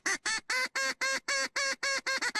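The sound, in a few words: mallard duck call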